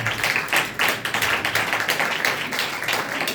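An audience applauds at a Christian sermon, a steady mass of dense clapping that swells and dips slightly in waves and stays loud throughout.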